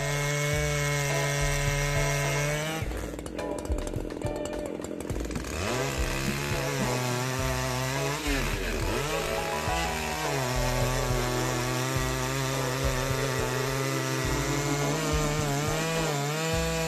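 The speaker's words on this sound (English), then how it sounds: "chains that dance through the wood like a symphony, these machines carve majestic oak trees with precision" Chainsaw-type sawmill machine cutting through oak, a loud continuous engine drone with shifting pitch as the blade bites into the wood, steady and close throughout.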